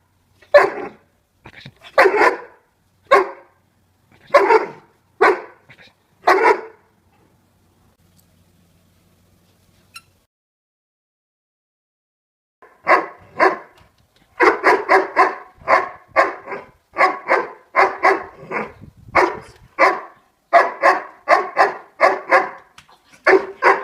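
A dog barks on command for a ball: a burst of sharp, close barks, a long silent gap, then a faster, denser run of repeated barks to the end.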